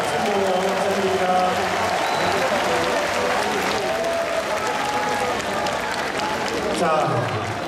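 Warm, sustained audience applause fills a large crowd at the 2019 Wonju Dynamic Dancing Carnival final after a dance team's performance, steady dense clapping throughout with crowd murmur and a few voices mixed in.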